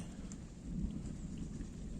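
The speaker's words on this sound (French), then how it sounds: "et malheureusement pour moi il commence à pleuvoir" Rain starting to fall outdoors at a carp fishing spot, a faint soft hiss of drops with a low distant rumble of thunder underneath, quiet and steady for two seconds, no talk.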